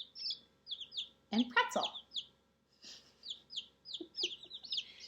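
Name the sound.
chicks chirping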